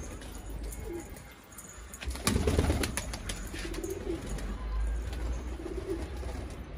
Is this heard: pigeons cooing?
yes